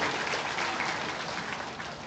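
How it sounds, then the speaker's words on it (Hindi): Audience applause welcoming guests at a road inauguration ceremony, a steady, dense wash of clapping from a large crowd, sustained and fairly loud throughout with no voices over it. "ताली बजाकर आप उनका स्वागत कीजिए"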